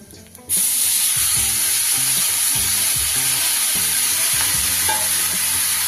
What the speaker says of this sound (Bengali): তাই আমি কিন্তু একটু ভেজেই দেব নারকেলটা